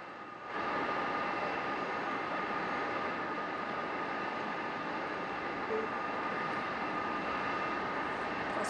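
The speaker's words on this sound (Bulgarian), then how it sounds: "дали можем да пуснем атмосферата да чуем на летище София?" Steady, broad airport ambience at Sofia airport as the papal plane arrives: a continuous loud roar of aircraft engines, unchanging and without speech.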